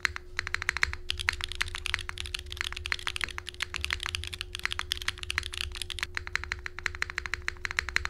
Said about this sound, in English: Yeah, space bar sounds great either way.